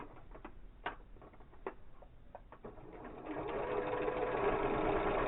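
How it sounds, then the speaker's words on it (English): A home sewing machine stitches in a steady whirring run after a few scattered ticks and clicks, close and moderately loud, with no talking. "assuming my sewing machine will work"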